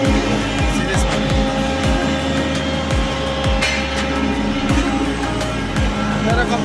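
A tile finishing machine grinds the tops of tiles in a tile factory. Its loud, continuous droning roar is broken by heavy thumping pulses at a regular rhythm, close by.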